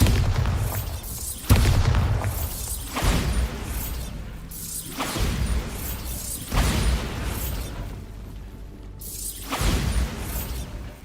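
Repeated heavy blasting-spell explosions from Hogwarts Legacy, a series of loud booming impacts roughly every two to three seconds with crumbling, shattering debris and whooshes between them.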